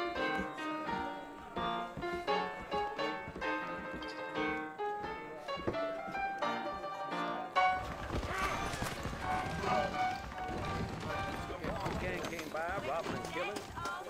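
Saddled horses in Red Dead Redemption set off at a walk out of a frontier town, their hooves clip-clopping in a steady rhythm under a western music score that swells midway.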